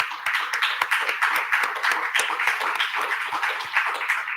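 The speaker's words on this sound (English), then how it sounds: "Let's give them a round of applause." A small audience claps for sponsoring firms at an evening book launch talk, giving a brisk, continuous round of applause with distinct individual claps, moderately close, and no talking.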